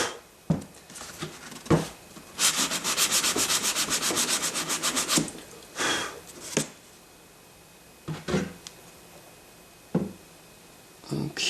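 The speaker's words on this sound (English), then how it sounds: "And then this little seam right back here, we'll sand it out." Hand sanding over a seam on a truck body, a sustained run of fast rhythmic rubbing strokes followed by several short separate swipes, close and fairly loud with pauses between.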